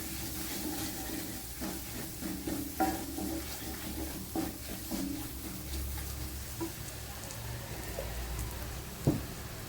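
Garam masala and spices being sautéed in oil for a mutton liver gravy, with a soft steady sizzle and occasional stirring scrapes and light pan knocks, one sharper clink near the end.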